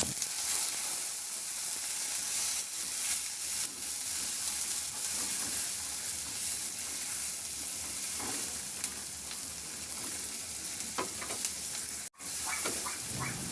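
Sliced onion and tomato sizzle in a pan alongside milkfish (bangus), a steady, close frying hiss with scattered crackles and occasional stirring, running unbroken with no talking.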